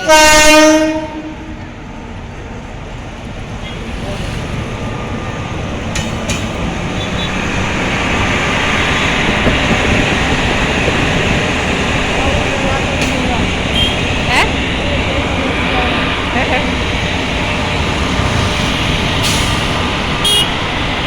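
A new train rumbles past slowly and steadily, a horn sounding loudly at the start, with a voice talking over the continuous rolling noise.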